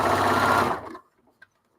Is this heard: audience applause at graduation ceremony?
no